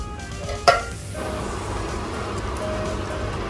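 Coconut milk heats in a pot while being stirred for biko, a Filipino sweet rice dish, with a sharp metallic clink of utensil on pot followed by a low steady bubbling and simmering hiss.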